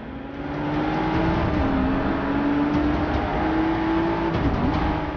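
A 2017 Ford GT engine racing in Forza Motorsport 6 holds a loud, steady high-pitched drone, with small pitch dips as the car shifts gears, and no talk over it.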